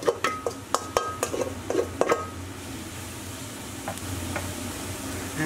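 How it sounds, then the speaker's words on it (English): Herbs hitting hot oil in a pan give a soft steady sizzle, with a cluster of sharp clinks and scrapes of utensil against pan in the first couple of seconds, then the sizzle continuing alone. "Once your oil's nice and hot, we'll add our herbs straight in."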